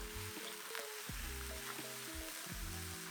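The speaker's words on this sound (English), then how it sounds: "Add mushroom and stir fry for 2 minutes." Mushrooms sizzle in hot sesame oil in a frying pan, a soft, continuous crackle with faint scraping and stirring knocks underneath, quiet and close with no voices.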